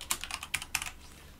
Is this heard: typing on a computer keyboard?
yes